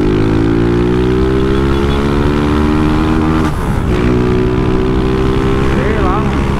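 A Honda Titan 160 motorcycle engine runs loudly up close, its buzzing pitch climbing steadily in a long rev, briefly dipping before rising again.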